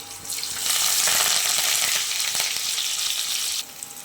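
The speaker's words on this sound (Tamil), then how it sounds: "இதையும் சேர்த்து நல்லா வதக்கிக்கலாங்க" Loud, steady sizzling as chopped shallots and curry leaves sauté in hot oil, briefly stirred, with the hiss dropping off near the end.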